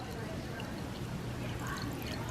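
Tea poured from a separate container into a cup in a home kitchen, a steady close splashing trickle running unbroken through the whole stretch.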